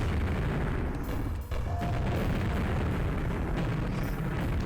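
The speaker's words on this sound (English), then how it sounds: "Because it just causes untold destruction by MIRV grenade." Sustained, loud blasts and booms from MIRV grenade explosions in a video game, rolling almost continuously with no gaps, with a brief dip partway through.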